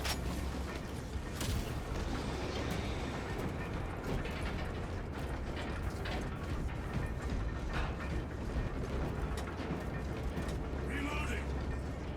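Grinding, clanking elevator machinery arriving in Warhammer 40000: Space Marine 2, a continuous low mechanical rumble with ratcheting gear clatter and creaks over steady background noise.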